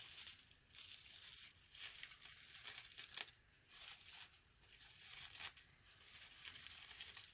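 Plastic wrap being peeled off a ceramic plant pot painted with alcohol ink, giving a steady run of close crinkling, tearing rustles with brief pauses, alone without talk.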